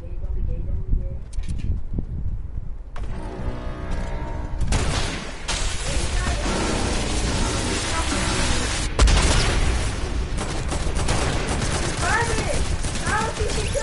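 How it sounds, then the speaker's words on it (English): Gunfire in a multiplayer shooter video game: bursts of shots and booming blasts crackle on and off over the whole stretch, loud and close, with a player's voice speaking over the action. "Why are you shooting?"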